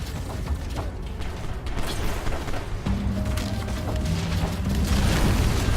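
Turret destroyed by missile strikes in the Cliff Empire city-building game: a dense, steady rumble of booming impacts and creaking mechanical clatter, growing slightly louder toward the end, with no talking.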